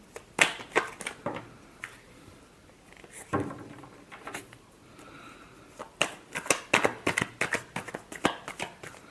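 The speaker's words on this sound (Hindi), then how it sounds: "आउटकम क्या है, लास्ट शफल।" Tarot cards are shuffled by hand in repeated quick riffling bursts, close and fairly soft, thickening into a rapid run of flutters toward the end with no voice over them.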